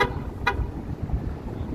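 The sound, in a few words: car horn honking on a Toronto street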